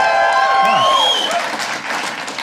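A stand-up comedy audience cheers and applauds, a loud wash of clapping and whoops with a few shrill rising yells early on, gradually thinning out over about two and a half seconds.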